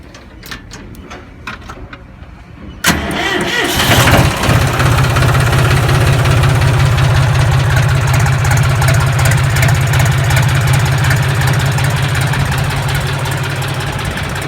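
A John Deere 5076E tractor pulling a 16-ton load of sugarcane out of the field; after a few seconds of quieter clanking, the engine roars up loud and close and holds a steady, heavy drone with a low rumble throughout.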